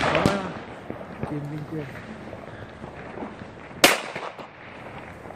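Silvester firecrackers and fireworks going off outdoors on New Year's Eve, with several sharp bangs and crackles and one loud close blast near the end, heard under continuous talk from people nearby.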